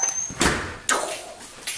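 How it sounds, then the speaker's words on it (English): A front door of a house is pushed shut, giving several broad whooshing thuds about half a second apart, each fading quickly, close and fairly loud with no talk. "Gotta shut the front door."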